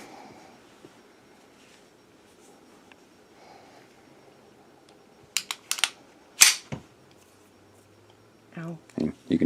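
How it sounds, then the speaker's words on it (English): Slide of a Beretta pistol being racked at a table, heard as a few sharp metallic clacks in the middle, then more clicks and handling noise near the end, after a quiet stretch. "I'm going to have her rack this gun"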